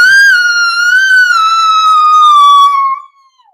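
A person imitates a wolf howl, one long sustained loud tone held near the microphone that wavers slightly and slides downward before cutting off, with nothing else audible.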